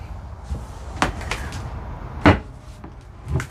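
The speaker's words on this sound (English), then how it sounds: "So that lifts up, so you have storage under there." Hinged bed platform in the bedroom of a Jayco Northpoint 390CKDS fifth wheel RV being lifted for storage access, with a few knocking thuds and wooden clunks close by, one louder bump near the end of the motion.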